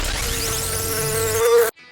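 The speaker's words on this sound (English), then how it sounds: "The bees are super active." Bees hum loudly and steadily around active hive colonies on a warm day, one close buzzing tone wavering before it cuts off abruptly near the end.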